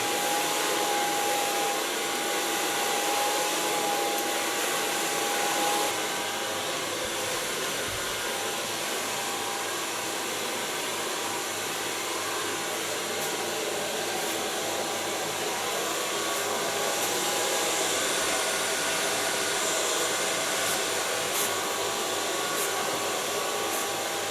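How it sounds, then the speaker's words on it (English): A hair dryer blows hair dry after a silver shampoo wash, its steady whooshing roar running continuously and close throughout, with no talking. "So far blow drying."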